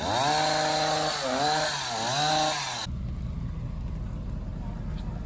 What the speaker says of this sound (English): he's doing a little trim of the hedges for me to spruce it up a bit